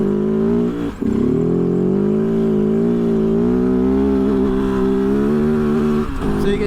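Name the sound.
Kove FSE 450R rally motorcycle engine bogging in 3rd gear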